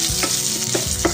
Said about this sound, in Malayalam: കടുക് നന്നായിട്ട് പൊട്ടിക്കഴിയുമ്പോൾ ചുവന്ന ഉള്ളി കനം കുറച്ച് അരിഞ്ഞത് ചേർത്ത് കൊടുക്കാം